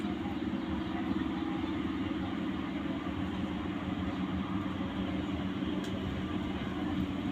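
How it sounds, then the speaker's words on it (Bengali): A train passes close by near Bandel station, a low, steady rumble that holds at an even level for the whole stretch without fading. "ট্রেন যাচ্ছে"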